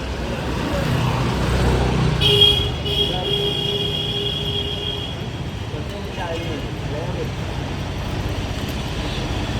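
Train rolling along rails on the way to a station, a steady broad rumble with a squealing high tone for a few seconds near the start, people talking over the noise.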